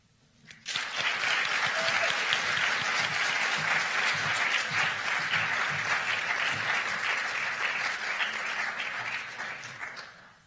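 At a state poetry recitation finals, an audience breaks into applause for the reciters, clapping starting abruptly, holding strong and steady for about ten seconds, then tapering off.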